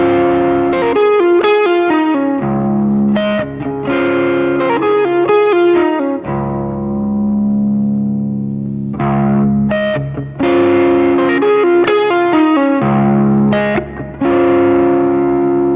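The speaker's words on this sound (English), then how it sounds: "So here's that overdrive with reverb." Electric guitar played through a Kinotone Sparks overdrive pedal with reverb, loud distorted chords and sustained notes in phrases with ringing tails, alone with no voice.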